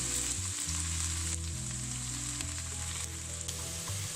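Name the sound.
onions frying in pan for bhindi masala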